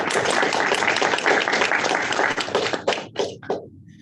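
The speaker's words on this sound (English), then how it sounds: "So let's give Federico another round of applause" An audience claps steadily, the applause dense and even before tapering off into a few scattered final claps.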